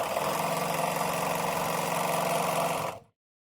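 A sewing machine chain-pieces quilt blocks at a steady, rapid stitching rhythm. The motor drones loudly and evenly for about three seconds, then stops abruptly into silence.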